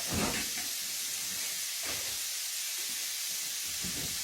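Bacon frying in a pan in a home kitchen gives a steady, fairly quiet hiss and sizzle throughout, with a few soft pops and crackles rising above it and no talking.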